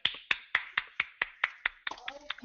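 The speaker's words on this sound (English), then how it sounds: "Now I can hear some clapping in the background." A few people clap for Joy during a sales training session, about eight crisp, evenly spaced claps close by, followed by a brief clatter of more irregular claps.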